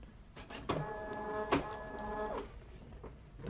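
Card printer whirring and clicking as it detects the installed ribbon after its cover is closed, a sustained mechanical motor hum framed by sharp clicks, close and fairly quiet.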